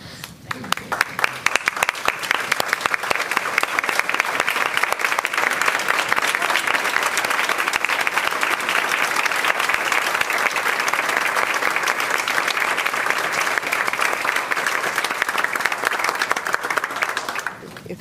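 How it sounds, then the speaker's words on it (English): A room at a school board meeting breaks into applause and a standing ovation, loud, dense and sustained clapping that builds quickly, holds steady for many seconds, then tapers near the end, with voices mixed in. "The board would like to also give you applause and standing ovation"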